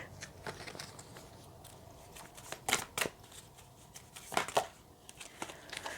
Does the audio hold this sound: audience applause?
no